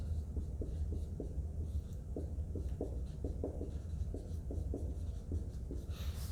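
Pen or marker scratching out a chemical name on a board during an organic chemistry lesson, in short strokes and taps over a steady low hum.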